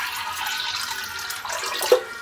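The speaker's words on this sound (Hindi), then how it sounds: "सबसे पहले हम ये एक बाउल में पानी डाल देंगे" Water pours steadily into a bowl in a home kitchen, a continuous splashing stream with a brief louder splash near the end and no talking.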